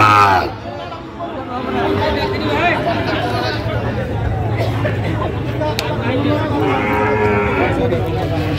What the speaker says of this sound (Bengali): শাহিওয়ালের ষাঁড় বাচ্চা আমরা দেখছিলাম এখানে, দামাদামি চলছে।